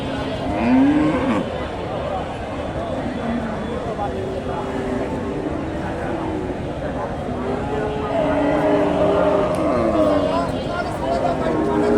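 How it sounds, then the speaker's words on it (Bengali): A Friesian cow moos at a busy cattle market, its long lowing calls rising above a crowd of chattering voices and general market din. "এই যে গাভীটা"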